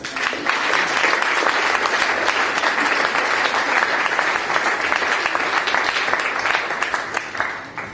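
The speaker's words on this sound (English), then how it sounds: "Big round of applause" An audience at an EdTechXEurope award ceremony applauds, a full, dense round of clapping that stays loud and steady for several seconds before tapering off at the end.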